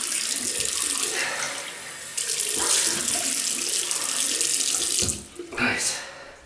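A water tap runs steadily into a sink while a face is rinsed during a wet shave, the flow briefly breaking and splashing near the end; no one talks over it.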